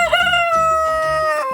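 A New Hampshire rooster, a somewhat shy breeding cock, crows once in a long, loud, sustained call that stays steady to the end, close by and clear, with faint clucking or farmyard sounds underneath.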